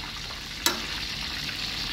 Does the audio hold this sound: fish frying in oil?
yes